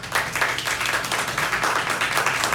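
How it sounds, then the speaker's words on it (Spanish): Moderate applause from an audience at a book presentation, a dense patter of clapping hands that holds steady for a few seconds without talk. "tendrá un aplauso"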